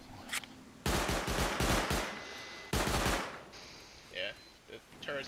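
An automated turret in a video game raid fires two long rapid bursts, loud and close, separated by a short pause, with faint other game sounds afterward.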